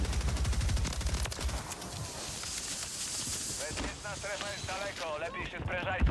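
Rapid automatic fire from akimbo Stinger guns in a first-person shooter video game, loud continuous bursts in the opening seconds tapering into scattered shots while players talk over it.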